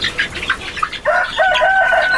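Chickens cluck in a poultry house as a rooster's crow rises loud and near over the flock, with wings briefly flapping.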